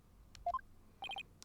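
Cell phone dialing tones in the video game Phoenix Wright: Ace Attorney – Spirit of Justice: two short beeps, then a quick run of three crisp electronic tones, clean and close with no voices.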